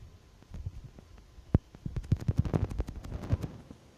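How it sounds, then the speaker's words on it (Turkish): Bursts of gunfire from a shooting video game, a single sharp shot followed by a rapid rattling volley of closely spaced shots, moderately loud. "Ya ya Rosa ya sıfırlıyım ama hala da seni vuruyorum"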